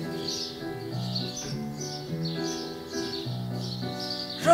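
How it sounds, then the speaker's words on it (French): Chirpy birdsong sound effects in a children's theatre play repeat in short bursts over sustained tonal music, moderately loud and even throughout. "c'est merveilleux d'entendre les oiseaux chanter."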